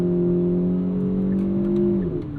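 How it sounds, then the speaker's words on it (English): Steady engine drone from a 2022 Kia Forte GT in sport mode, a smooth induction tone holding a constant pitch before dipping slightly near the end, continuous and fairly loud with no talking. "Sometimes it just sounds super artificial, but this sounds like induction noise"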